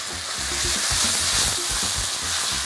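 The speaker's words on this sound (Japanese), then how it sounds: "スライスして切ったブラウンマッシュルームはフライパンに移して" Sliced brown mushrooms fry in a pan, giving a steady close hiss of sizzling with some low clatter of stirring underneath.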